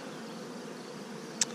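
Russian honey bees with a Buckfast queen hum in a steady, even drone during a summer hive inspection, close and continuous with a single brief sharp tick near the end; no one speaks.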